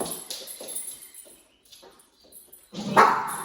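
A dog gives a few short, sharp barks and yips close by, with quiet gaps between them and a louder bark at the end.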